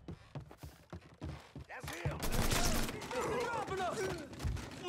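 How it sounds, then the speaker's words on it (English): AK rifle fire in the Mafia III video game, a string of sharp close shots at first, then a louder, denser flurry of gunfire and impacts with someone talking over it. "the AK up close is very, very nice"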